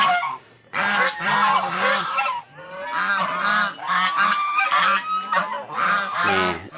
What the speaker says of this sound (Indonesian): Soang.